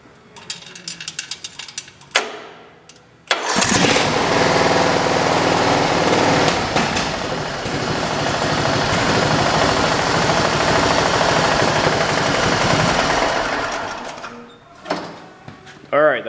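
A racing lawn mower's small engine is pulled to start after a short false start, then fires up and runs loud and steady for about ten seconds before dying down; someone talks before and after.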